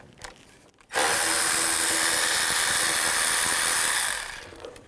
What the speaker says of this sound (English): Now I'm going to use a 5mm hex bit and take these 4 bolts out.